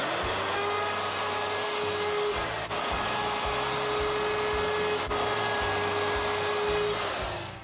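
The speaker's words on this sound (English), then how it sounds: "I think I'll router the top and bottom edges too." Wood router trimming the top and bottom edges of a wooden crate, a loud, steady high-pitched motor whine with a cutting roar that runs continuously, with two brief dips along the way.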